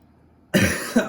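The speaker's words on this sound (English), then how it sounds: "my coughing, it keeps me up" Two quick, close coughs break a near silence, the second a little softer than the first.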